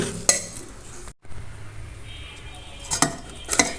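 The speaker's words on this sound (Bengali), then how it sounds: "এটাকে আমি এবার চুলায় দিয়ে নেড়ে মিশিয়ে জাল করে নিব" Coconut mixture for nolen bhapa pitha with salt, cardamom, bay leaf and date palm jaggery being stirred in a pan on the stove, a few sharp utensil clinks and scrapes over a faint background hiss, near and with no speech.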